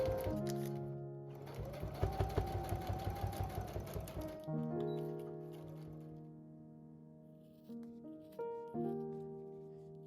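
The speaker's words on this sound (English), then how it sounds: "Sew from the outside. Be cautious to avoid catching the lining." A sewing machine stitches a vegan leather mini Boston bag, running in a short burst of rapid, rhythmic needle clatter close by, then falling quiet while soft background music plays.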